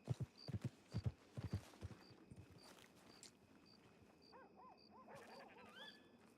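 Horse hooves in a Western-themed role-play video game, Syn County RP, thud in a quick run of close, rhythmic beats for about two seconds, then fade as ambient game noise and scattered chirpy calls carry on.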